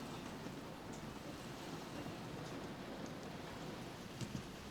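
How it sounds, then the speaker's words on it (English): Steady rain falls in the video game Xenosaga 2, a soft, even hiss throughout with faint scattered drops and no talking. "Oh, it's raining."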